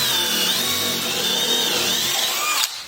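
A power drill bores halfway into a wooden swing board, a loud steady whine that holds for over two seconds and then cuts off abruptly as the motor stops.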